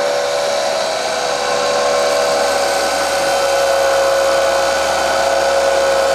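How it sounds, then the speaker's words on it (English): A bandsaw cuts through aquarium rock with a steady, loud high-pitched whine and grinding hiss that holds constant throughout, with no talk. "it's really all about letting the saw do the work. You don't want to push because you'll go through a lot of bandsaw blades."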